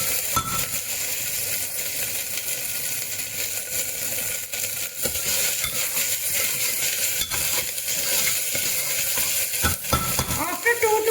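Minced mutton kheema fries with ginger garlic paste in a pan for Parsi patties, a steady loud sizzle broken by scraping stirs and occasional metallic clinks of the spoon.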